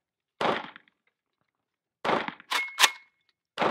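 Shots from an M92 PAP SBR conversion fitted with a 75-round drum magazine ring out as separate sharp reports, one alone and then a quick cluster of three before a fourth, each with short ringing decay outdoors.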